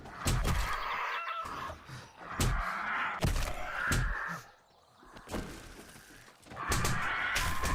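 Crows caw repeatedly in the 7 Days to Die game world, harsh loud calls coming in several bursts with short pauses between them, close and clear with no talk.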